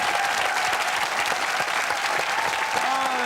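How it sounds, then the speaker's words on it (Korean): A studio audience at a Korean TV army variety show gives loud, sustained applause, a dense, continuous clatter that stays even throughout. "이런 때 박수를 한번 쳐주셔야죠"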